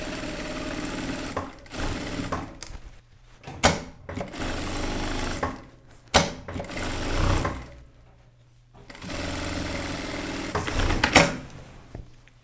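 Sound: sewing machine stitching a children's shirt

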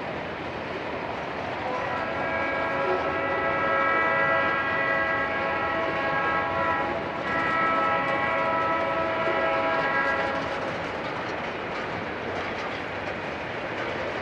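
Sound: Norfolk Southern train approaching

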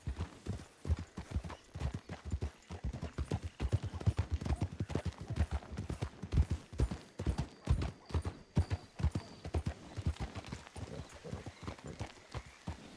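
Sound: horses clip-clopping and whinnying in video game RedM

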